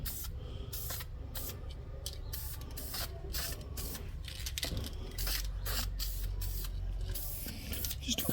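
Spray paint hisses out of an aerosol can onto a metal soundbar bracket in short bursts, close and moderately loud, with faint rattles and handling noises between the bursts.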